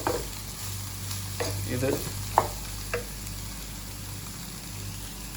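Okra frying in a pan and being stirred, giving a steady close sizzle with a few sharp scrapes and clanks of the spoon against the pan and a brief word spoken.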